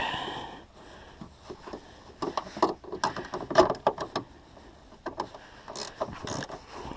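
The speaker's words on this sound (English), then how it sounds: "That's why I really like these ratcheting wrenches." A ratcheting wrench snugging a tail lamp on a 2007 Buick Lucerne, giving quick bursts of clicking ratchet strokes, fairly close and moderately loud, in short irregular runs.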